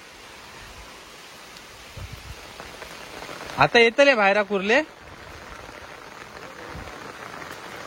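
Steady first monsoon rain shower falls outdoors in a Konkan village, a soft even hiss throughout, with a short stretch of nearby talking in the middle.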